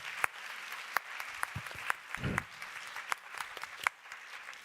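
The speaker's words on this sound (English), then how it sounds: "big round of applause" Audience applause at a CEO forum session, a sparse, thin scattering of claps with sharp individual hand strikes, fairly quiet and without talk.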